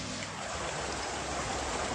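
Steady rain falls at an abandoned house in Portugal, a continuous close hiss of drops spattering surfaces with no pauses or voices over the whole stretch.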